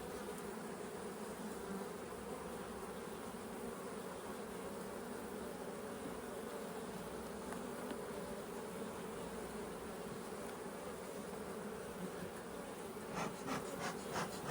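Honey bees swarm thickly over a hive frame, a dense, steady buzzing drone close to the ear that holds level throughout, with a few light rubbing taps near the end.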